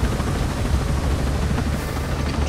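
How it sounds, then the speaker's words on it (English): Helicopter in Ghost Recon Breakpoint, a constant close rotor roar and broadband whoosh holding steady and loud for a couple of seconds with no speech. "can I get on the helicopter?"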